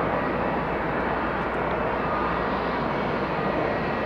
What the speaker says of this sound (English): Nice looking airplane, got the new paint job on there.